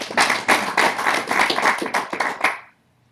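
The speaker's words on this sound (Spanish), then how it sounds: "Denle un aplauso al Señor, iglesia." A church congregation claps for the Lord after a prayer, a close burst of many hands clapping steadily for about two and a half seconds before stopping abruptly into near silence.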